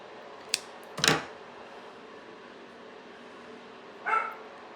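A small, anxious dog indoors gives two sharp barks about half a second apart, then a further bark or yip a few seconds later, loud and near at a door over a quiet room, with no talking.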